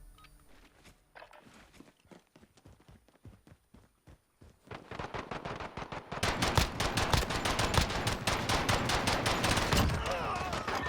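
Rapid full-auto pistol fire in a video game: sparse single shots at first, then a loud, dense, sustained burst of rapid shots that keeps going to the end.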